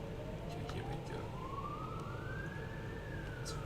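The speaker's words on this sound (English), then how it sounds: "It's a very loud siren." A loud siren wails in the factory-building video game Satisfactory, one long rising tone over a steady dense mechanical roar, continuous for a few seconds.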